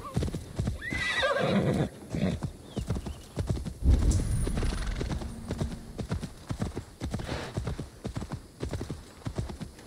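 A horse in the Assassin's Creed Valhalla video game neighs, and its hooves clip-clop in a steady walking rhythm. Speech is heard at points.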